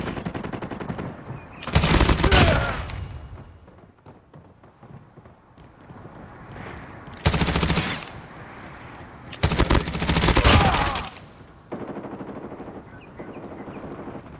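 Bursts of automatic gunfire from a Call of Duty match, three loud volleys separated by quieter stretches of lighter shooting and game ambience, with no one talking.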